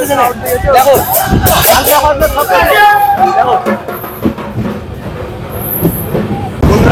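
A new passenger express train runs at speed, heard from inside with a loud rumbling roar and rhythmic clatter, while people talk over it nearby.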